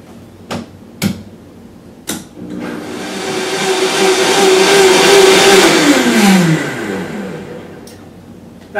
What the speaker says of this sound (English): I'm just going to blend it until it's warm.